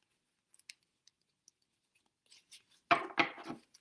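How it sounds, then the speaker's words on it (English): Wisdom cards being shuffled by hand: a few faint, sparse flicks and taps at first, then a burst of louder riffling near the end, close and quiet, with no talking. "when I work with the cards, I just like to shuffle until I feel complete"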